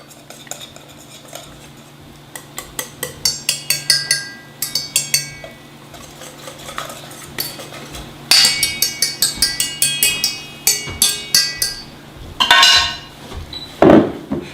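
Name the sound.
whisking homemade syrup for French toast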